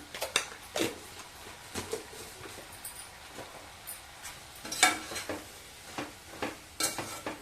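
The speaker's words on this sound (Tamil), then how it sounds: "நல்லா உப்பை மிக்ஸ் பண்ணிக்கிட்டு" Salt being stirred into beetroot kootu in a pan, a spoon scraping and tapping in quiet irregular strokes with one sharper metallic clink, soft sizzling underneath, no talking.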